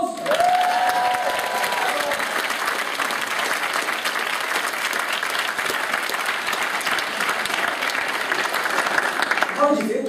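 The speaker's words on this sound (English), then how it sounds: "Massive round of applause." A live crowd at a magic show gives a big round of applause, loud and sustained for about ten seconds with some cheering mixed in, before it thins out at the end as a voice returns.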